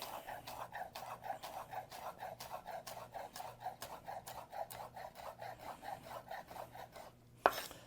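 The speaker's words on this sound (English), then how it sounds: "now you can move your knife through it and just cut slices" A knife slices through rolled basil leaves on a cutting board in a steady, even rhythm of close, crisp chops that run for several seconds. A final sharper knock comes near the end.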